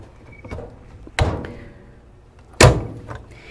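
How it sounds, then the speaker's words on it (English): A heat press slams shut twice on a shirt being pre-pressed before heat transfer vinyl goes on, giving two sharp, close thuds with quiet pauses before and between them. "I'm just gonna give this shirt a little pre-press to get any moisture out"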